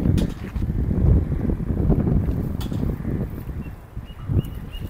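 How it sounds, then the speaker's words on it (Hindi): Wind gusts across the microphone outdoors in Karachi with a steady low rumble and buffeting, faint birds now and then in the background. "हवा चल रहा है अभी"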